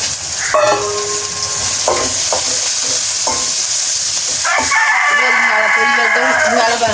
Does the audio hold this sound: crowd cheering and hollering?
no